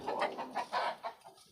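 A medium-size brooding hen clucks softly nearby in a short run of low, rhythmic calls that fade out toward the end.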